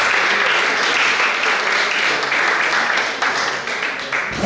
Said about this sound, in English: Kindly give them a round of applause.